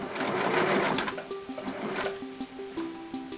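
A Singer sewing machine sews a buttonhole in short bursts of rapid stitching, a loud close whirring chatter that slows into a few separate stitch clicks with small pauses between them.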